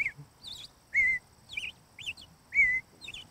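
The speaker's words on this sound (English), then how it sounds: "or a robin," An American robin sings its song, a run of short, rich whistled caroling phrases in a steady rhythm, close and clear with no speech.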